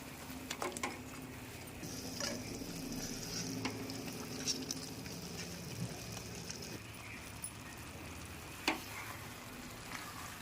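Small fish frying in hot oil with masala for a fish curry, a steady soft sizzle with occasional pops and stirring clinks over about ten seconds.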